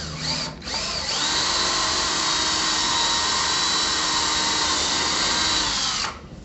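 A power drill bores through a bypass track frame and drywall into a stud, one sustained high whine lasting about five seconds after a brief start, then spinning down, loud and close.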